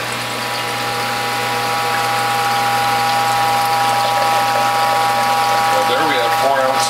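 A WHF hydraulic juicer press, a Norwalk-style machine, grinds with continuous ratcheting and a steady motor drone as it advances, loud and close, with a faint rising whine near the end.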